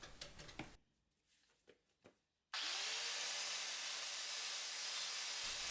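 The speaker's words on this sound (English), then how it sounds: "now I'm going to grind to the line just using a flap disc" An angle grinder fitted with a flap disc grinding a wooden piece down to a marked line, starting abruptly after a few quiet knocks and then holding a loud steady abrasive whine up close.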